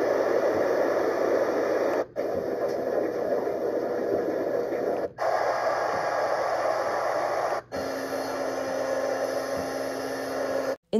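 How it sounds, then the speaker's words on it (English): A baby sound machine plays a steady, soft hiss of pink noise that runs evenly, broken by a few brief dropouts. "Some of the sounds that it includes are brown noise, pink noise, which is my favorite"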